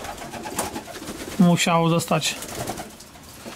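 Pigeons give a short run of throaty coos at close range in the middle, with a man's speech before and after in a loft where young birds from the breeding season are kept.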